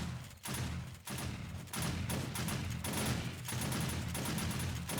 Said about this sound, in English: the shotgun turrets are on.